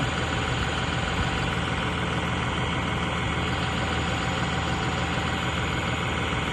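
Close, loud tractor engine (new model 5620 CRD) idling with a continuous low rumble and a faint knocking rhythm, unchanging throughout with no voices.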